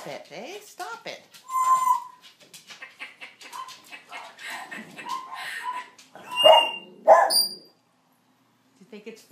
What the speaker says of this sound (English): Do you think it's funny when the dogs bark?